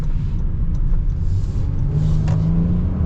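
A 2025 Honda Odyssey minivan with a 10-speed automatic accelerating on the road, heard from inside as a steady low rumble of engine and road noise with a rising engine tone in the second half.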